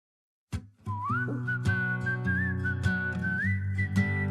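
A clear, close melodic whistle carries a tune over plucked and sung backing after a brief silent start.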